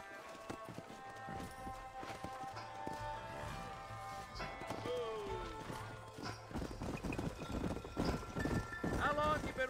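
Horse hooves clip-clopping in the game Red Dead Redemption, a rhythmic trot that grows busier and louder toward the end under music and other game sounds.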